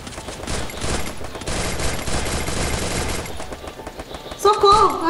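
Rapid automatic gunfire in the shooter game Free Fire: sustained bursts of loud shots rattling continuously, with a short electronic game tone near the end and faint voices underneath.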